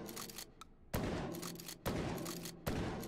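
Loud weapon blasts in the Hot Dogs, Horseshoes & Hand Grenades VR game, three heavy booming shots spaced about a second apart, each trailing into a rumbling decay, with a few lighter pops between them.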